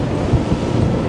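Halma Rib HR25 boat hull running through waves at speed, a brief low rumbling wash of water and wind with a couple of dull thumps, no voices.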